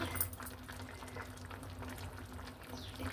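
A drumstick and tomato curry bubbles in a pot, a soft continuous boiling simmer with faint crackles that runs steadily throughout at low volume, with no talking.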